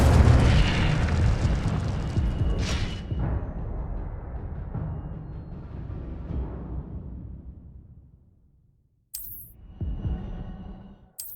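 A fiery spell blast from the wizarding video game Hogwarts Legacy, opening with a loud rumbling burst that rolls and fades over several seconds to near silence, then a second sharper crack and renewed roar near the end.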